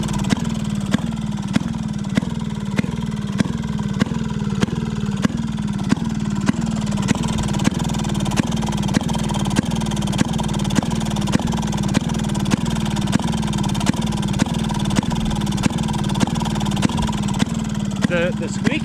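A Maytag 92 hit-and-miss engine found in a garage runs steadily close by, its regular rapid firing pops over a low mechanical chug.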